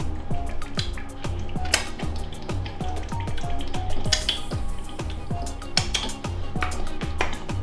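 Peppers and spices are stirred into a sizzling jollof sauce in a pot: a constant crackling fry with frequent soft spoon scrapes and clinks, close and fairly loud, with no talking.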